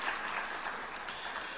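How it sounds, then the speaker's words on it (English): A conference audience gives a round of applause, a dense even wash of many hands clapping, somewhat distant and steady throughout the brief moment. "I'd like you to give him a big round of applause"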